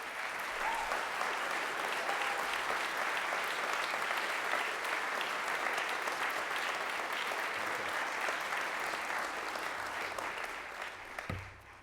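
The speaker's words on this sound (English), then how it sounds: "So I want all of our rowers who took part in that to stand and receive a round of applause" A room full of people applauding rowers at a school rowing awards gathering, steady continuous clapping for about eleven seconds that thins out and ends with a soft thump.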